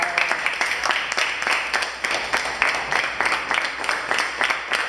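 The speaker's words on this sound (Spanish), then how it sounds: "Un fuerte aplauso para la mujer nuestra." A classroom audience at an Ecuadorian university lecture breaks into brisk, steady applause, many hands clapping close and fairly loud for several seconds with no talk over it.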